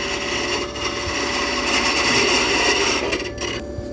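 A gouge cuts into wood spinning on a wood lathe, making a loud, continuous, close rasping scrape that holds steady for about four seconds and thins out near the end.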